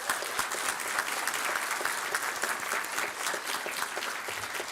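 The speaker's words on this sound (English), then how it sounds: "Please join me in a round of applause for these members of our community." A crowd at a fall commencement ceremony gives a round of applause, with even, sustained clapping from many people throughout and no talking.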